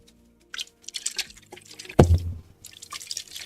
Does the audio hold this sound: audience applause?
no